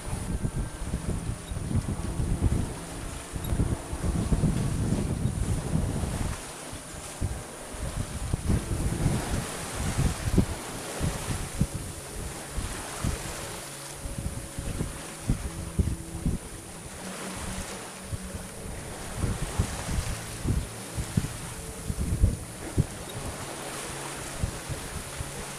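A sailboat runs on its engine under mainsail off Corsica, with constant wind buffeting and rushing waves over a low motor drone, loud and steady with gusty swells and no talk.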